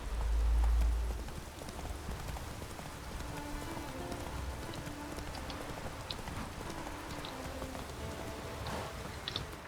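Horse hooves clip-clopping in The Witcher 3 under steady rain, a quiet irregular patter of hoof beats mixed with raindrop noise and a brief low thump near the start.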